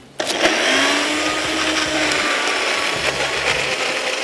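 A kitchen grinder jar whirs to life at once and runs loud and steady as it grinds a dry chutney mix, with a rough buzzing tone and a faint rattle inside the jar, close and with no voices.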